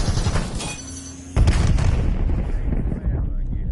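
A sniper rifle firing in a video game, one heavy booming shot that cuts through a noisy stretch of game sound and rolls away, with a voice heard faintly.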